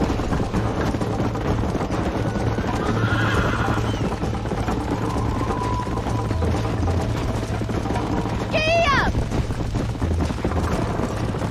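A horse in Red Dead Redemption gallops with steady hoofbeats over constant ambient rumble, then lets out a loud, wavering neigh near the end.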